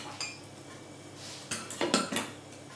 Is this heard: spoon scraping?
yes